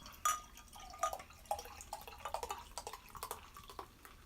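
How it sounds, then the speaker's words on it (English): Beer splashes and fizzes into a glass in quick uneven bursts, quiet and close, with small bubbly pops throughout. "Some splashies pour kind of aggressive right there"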